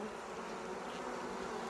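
A dense swarm of honey bees hums steadily up close at an open hive, a continuous buzzing drone with no pauses.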